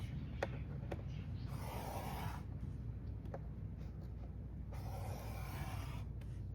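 Paper being scored by hand on a We R Makers punch board: two bursts of dry scraping and rasping strokes, close and fairly quiet, with faint taps in between and no talking.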